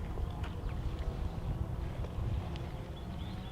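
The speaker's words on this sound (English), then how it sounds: "the wind did pick up a little bit now." Gusty wind buffets the microphone outdoors on a dairy farm, a steady rough low roar with no voices, close and continuous throughout.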